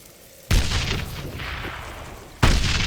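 Stick grenade blasts in the video game Darkest of Days: two loud, sudden booms roughly two seconds apart, each with a broad rumbling decay, heard alone without talk.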